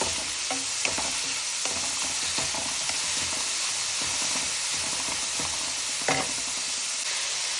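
Curry leaves and aromatics sauté in a pan for an Indian beef curry, a loud continuous close sizzle with scattered soft scrapes and clinks of stirring and no talking.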